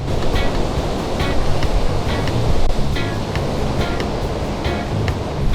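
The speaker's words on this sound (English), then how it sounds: "It is incredibly windy right now. Great for waves, bad for about everything else." Loud ocean surf at Santa Cruz churning continuously while strong wind buffets the microphone with a heavy roar.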